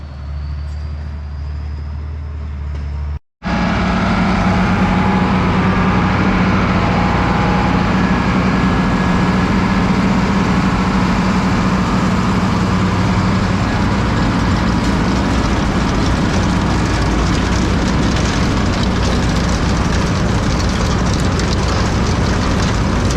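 Forage chopper engine running in a corn field while chopping haylage, a loud steady mechanical roar with broadband noise, preceded by a quieter idle and a brief cut before it surges to full volume and holds for the rest.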